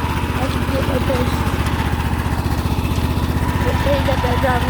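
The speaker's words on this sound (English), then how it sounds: "In a second, I'll drive the lawnmower" A riding lawn mower engine runs steadily out in a field, a loud continuous pulsing drone that holds without change from start to finish.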